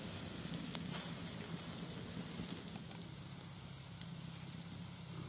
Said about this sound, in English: Okay, so the sausages are on. Apple and pork sausages.